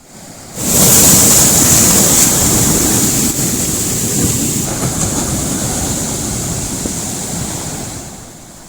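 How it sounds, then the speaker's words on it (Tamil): Rough sea waves driven by Cyclone Amphan crash along the coast at Ennore, Chennai. The loud, continuous roar of surf mixes with buffeting wind on the microphone and swells in abruptly after a brief quieter opening. "அம்பன் புயல் காரணமாக சென்னை எண்ணூரில் 2வது நாளாக கடல் கொந்தளிப்புடன் காணப்படுகிறது."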